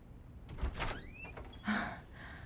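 A home's front door is opened, with a latch click, a soft thump and a brief creak and squeal of the hinges, followed by a dull knock, close by in a quiet room.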